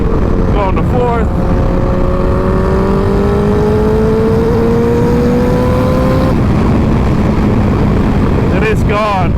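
A turbocharged Suzuki Bandit 1200 motorcycle roars loudly while accelerating on the road, its pitch rising steadily through a gear, then a brief break as it shifts to fourth, with heavy wind noise throughout.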